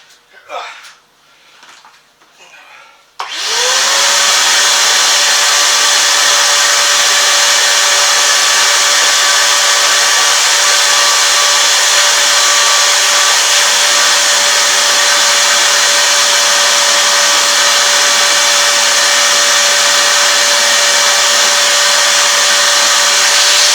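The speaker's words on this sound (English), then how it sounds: "I want to make sure I vacuum this right side really well where the air comes in" A vacuum cleaner cleaning a furnace's air intake side switches on after a few seconds of brief handling noise, then runs as a loud, steady, close whine with a constant high tone for the rest of the stretch.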